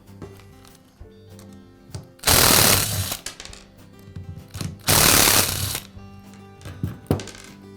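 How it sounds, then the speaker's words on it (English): Work on a Milwaukee grinder as its cord clamp is removed: two loud broadband bursts of rattling, ratcheting metal, each lasting about a second, set among quieter small clicks and handling noises. "Now remove the cord clamp."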